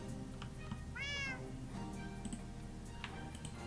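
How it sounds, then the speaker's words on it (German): A single rising meow from a cat in the video game Minecraft, heard once over a steady background hum with a few faint clicks and ticks around it. "wenn ich dieses blöde Katzengeräusch höre"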